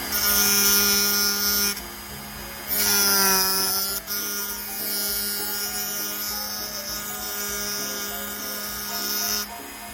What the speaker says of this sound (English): Here's how it looks once I start dremeling the screws